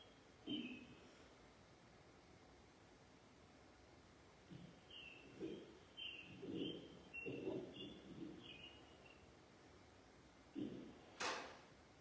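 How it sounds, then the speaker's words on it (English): Birds sing outdoors in faint, distant, scattered chirps that come and go over a quiet background, with a few soft low thumps and murmurs in between. "Where I am, I hear the birds"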